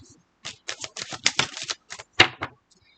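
A deck of cards is shuffled in several quick riffling bursts, close and crisp, with short pauses between them and no talking.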